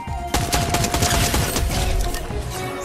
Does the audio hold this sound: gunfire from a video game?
yes